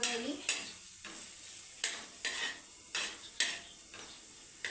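A peanut vegetable dish fries on an iron griddle, a soft constant sizzle broken by about eight sharp scrapes of a spatula stirring at a regular pace, close and fairly quiet.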